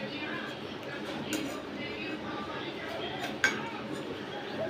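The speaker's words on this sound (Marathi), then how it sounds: "तर मी मधून पीससारखं कट करणार" Cutlery scraping and clinking against a plate while food is cut into pieces, soft repeated scrapes with one sharp clink near the end, under continuous talking.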